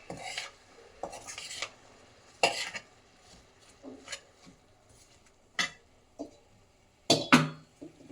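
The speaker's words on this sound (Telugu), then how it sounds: "ఇప్పుడు ఫ్రై చేద్దాం." Chicken curry with moringa leaves being fried and stirred in a pan, heard as scattered scraping and clattering bursts of utensil against metal with faint sizzle between, no talking.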